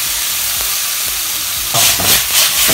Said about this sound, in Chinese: 炒出汁之后，倒入我们切好的土豆片